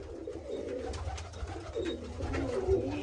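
Soft, low pigeon coos murmur steadily in the background, several birds cooing together indoors with no voices.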